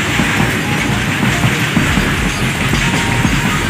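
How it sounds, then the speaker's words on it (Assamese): A big train pulls into Goalpara station, its loud rolling rumble and clattering wheels filling the scene steadily and close by, with no voices over it. "আৰু আহি আছে বহুত ডাঙৰ ট্ৰেইন এইটো"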